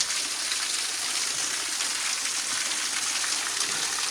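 Water pours steadily at Stephens Falls in Governor Dodge State Park, a dense, even hiss of falling spray with no pauses, close and fairly loud.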